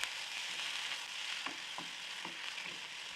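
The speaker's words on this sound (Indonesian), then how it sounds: "kemudian ini ditumis sampai layu dan harum" Steady close sizzling of a ground garlic, shallot and pepper paste frying in hot oil, with a few soft spatula scrapes against the pan over the continuous hiss.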